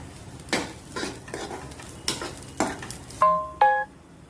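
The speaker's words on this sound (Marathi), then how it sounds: "मग आता त्याच्यात मी जरा तीळ टाकते आणि थोडं 2 मिनिटं परतून घेते" Sesame seeds are stir-roasted in a pan for chutney made from bottle gourd peel, a spatula scraping and knocking against the metal in irregular strokes over a soft sizzle, with a short electronic beep near the end.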